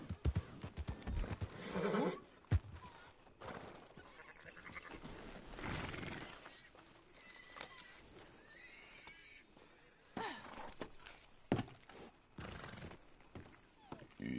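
A horse whinnies and snorts amid clopping hooves and scattered clatter in Red Dead Redemption 2 Online, with bursts of game sound effects and some faint talk.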